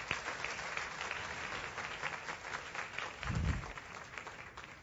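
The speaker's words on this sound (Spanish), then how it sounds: "Yo creo que eso merece un aplauso gigante para Él" A church congregation applauds during a sermon, with steady, moderately distant clapping that holds throughout and a brief low thump partway through.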